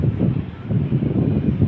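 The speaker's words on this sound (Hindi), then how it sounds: "बहुत तेज़ हवा चली खड़ी है समंदर से" A strong sea wind at a Dubai beach buffets the microphone in loud, low, gusty rumbles that pulse unevenly without any talking.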